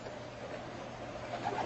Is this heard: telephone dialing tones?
no